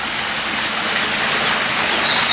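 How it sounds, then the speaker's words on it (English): A small waterfall water feature at Pattaya Elephant Village, a steady close rush of falling water, loud and continuous with no voices. "Nice little waterfall, little water feature."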